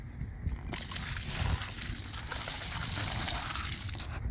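Water is poured heavily onto a rain-soaked truck carpet as a presoak before pressure washing, making a continuous, close sloshing rush with no gaps.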